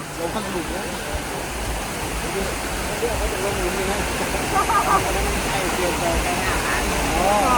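Rushing water at Tat Wimanthip waterfall in Bueng Kan during the rainy season, a steady broadband roar that holds throughout and swells slightly near the end.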